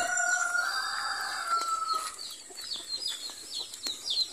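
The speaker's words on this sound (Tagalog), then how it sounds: "Puntahan natin yung mga sisiw din na bagong pisa." Newly hatched chicks and chickens on a Filipino farm raising pigs, chickens and turkeys, with a steady chorus of high chirps and cheeps plus clucking and a rooster-like call, fairly close and continuous, no talking.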